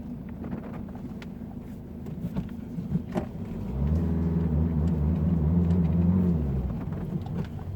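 A Citroen C-Elysee engine idles with wind rumble, then revs up loudly partway through, holding a strong droning pitch before easing back down. The sound is close and loud.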